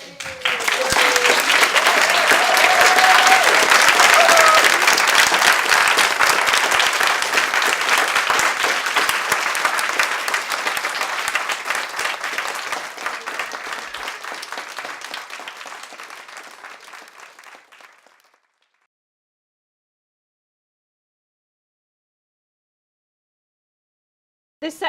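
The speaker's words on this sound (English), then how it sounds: "I wonder if you would join me in a round of applause to mark his passing." An audience applauds at length in memory of Nelson Mandela at a Greenham Women event, starting loud and full, then gradually thinning and fading out to silence after about eighteen seconds.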